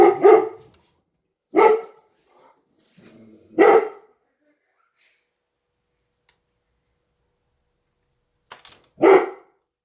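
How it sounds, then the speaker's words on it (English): Several dogs bark in separate sharp bursts indoors, about five loud barks spaced across the stretch with quieter yips between and silent gaps. "Sorry about the dogs. I'm not really sure what they're barking at."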